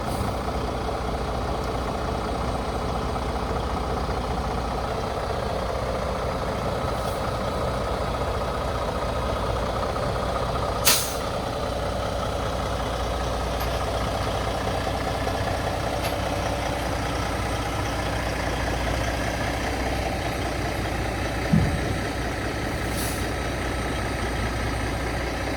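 A Peterbilt-style Tri-State 389X show truck hauler idles steadily with a deep, constant diesel rumble nearby, broken by two short sharp air-brake hisses partway through.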